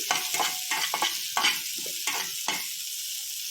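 Long beans fry in a pan with a steady sizzle while a spoon scrapes and stirs them in quick, repeated strokes.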